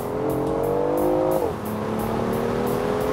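A BMW i8 Roadster accelerates hard: a loud, steady engine note climbs in pitch, dips briefly at a gear change, then keeps pulling strongly, close up and with no talking.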